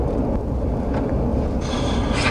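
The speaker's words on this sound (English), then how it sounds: "Wicked windy." Strong wind buffets the microphone in a steady, heavy low roar, with brief gusty surges and a brighter rushing hiss near the end.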